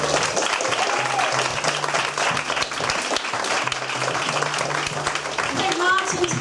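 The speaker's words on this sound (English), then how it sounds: "A big round of applause for them, please." A room full of people applauds writers at a book event, a thick, continuous wash of clapping mixed with cheers and raised voices that stays strong throughout.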